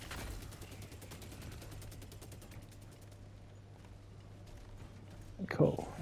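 Gunfire in the video game Helldivers 2 rattles off as a rapid, evenly spaced burst of shots through the first half, moderately faint and mixed under a player talking.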